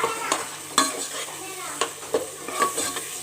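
Potatoes tossed with chaat masala, garam masala and dried coriander in a pan give soft scraping stir strokes and a few sharper clinks against a light sizzle, close and fairly quiet.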